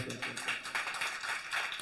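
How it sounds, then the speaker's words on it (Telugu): A congregation claps for a preacher at a church gathering, a brisk, steady patter of many hands filling a short stretch. "దైవజనుడి కోసం ఒకసారి చప్పట్లు కొడుతూ"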